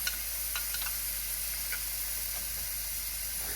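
Sauce hitting a hot pan while chicken and broccoli cook, giving a steady, faint hiss and sizzle with a few small pops and crackles and no talking.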